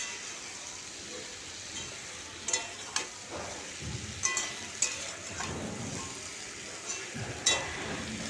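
Pumpkin stalks with cumin and chilli powder stir-frying in a kadai, a soft steady sizzle with intermittent scraping and tapping of a spatula against the pan, close and fairly quiet.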